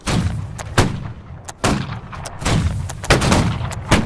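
Musket volleys ring out in the Napoleonic-era game Holdfast: Nations at War, with several sharp, booming shots fired in a staggered rolling sequence, loud and close, one after another over a few seconds.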